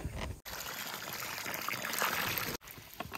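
Water is poured onto a plant on a farm, a close, steady splashing trickle with two brief breaks where the flow stops.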